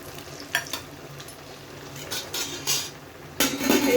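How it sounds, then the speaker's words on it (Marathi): Cylindrical sabudana vadas are dropped into hot oil and fry with a close, steady sizzle, broken by a few sharp clinks and scrapes of a utensil against the pan. "ते मी आता घालते इकडे फ्राय करायला।"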